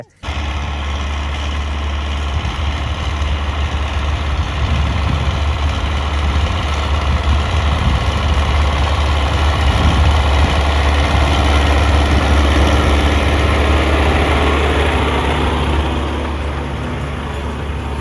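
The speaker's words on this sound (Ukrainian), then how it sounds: "Не потягнув трактор, не потягнув. Четверта понижена передача." An MTZ tractor engine drones loud and steady in low fourth gear, labouring as it pulls a Great Plains 3S-4000HD seed drill direct-sowing winter wheat, a heavy low rumble throughout.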